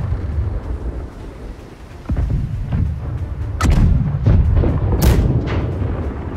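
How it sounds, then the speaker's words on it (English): Ship cannons fire in the naval combat game Blackwake, several deep booming shots over a rumbling, stormy background, loud and irregularly spaced across the stretch. "Right side cannons, long range, 600 some meters."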